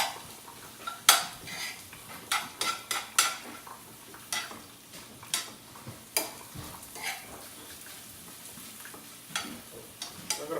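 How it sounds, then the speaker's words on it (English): Duck egg scramble tossed and stirred in a pan, with a spoon scraping and clinking against the metal in scattered sharp taps over a faint, steady sizzle, close and with no talking. "I'll give that a toss and just combine everything."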